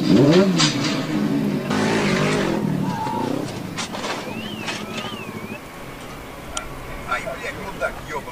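A motorcycle engine revs hard and roars briefly while being loaded too fast, with clattering and bumps, then several voices react with shouts and chatter.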